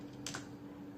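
A single keypress on a computer keyboard, a short close tap followed by a faint second click, in a quiet room.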